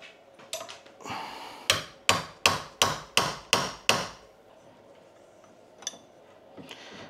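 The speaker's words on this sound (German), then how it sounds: "Mal einen Hammer nehmen hier." A run of about seven sharp metallic hammer blows at a steady rhythm, close and loud, with a few lighter taps before and after, while working on a hydraulic hedge trimmer.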